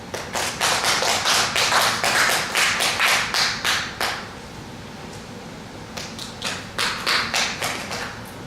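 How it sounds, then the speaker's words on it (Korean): An audience claps in a lecture hall to welcome a philosophy professor, bursts of sharp claps ringing out for about four seconds, then a brief pause before a second, thinner round of applause. "나오실 때 큰 박수로 맞이해 주시면 감사하겠습니다."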